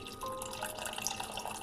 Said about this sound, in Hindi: तो इसमें पानी डाल देंगे